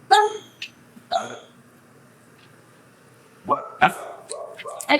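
Dogs at a Korean canine rescue shelter's quarantine area for sick and special-needs dogs give a few short barks and yips, spaced out over the clip, fairly close, with a louder cluster near the end.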